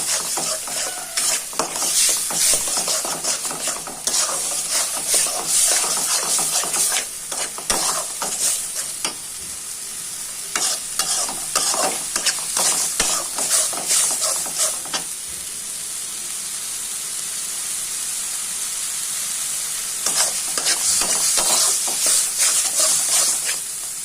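Egg curry in a pan being stirred and fried after turmeric, chili and coriander powder go in, steady loud sizzling broken by bursts of scraping and stirring, no talk.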